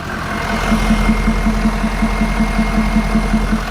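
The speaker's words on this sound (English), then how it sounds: "if it's right on the filter, you can actually hear how the truck actually idles" A truck engine idles steadily, heard up close at its aftermarket intake filter, with a low, even rhythmic pulse and a constant rushing hum and no talking.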